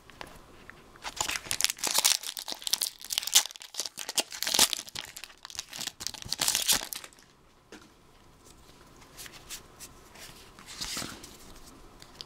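Crinkly plastic wrapper of a Pokemon Black and White card booster pack being torn open up close, with bursts of crumpling and ripping for several seconds, then quieter handling and a final rustle.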